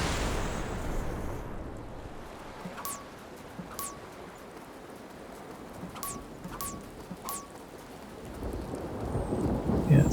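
In the game Wylde Flowers, a spell summons a thunderstorm over the sea: steady rain hisses throughout, with several sharp crackling thunder strikes and a low rumbling swell toward the end.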